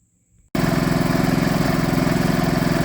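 A generator engine in an insulated, fire-retardant enclosure starts up after a brief near-silence and runs with a steady, loud, pulsing drone, close by and alone.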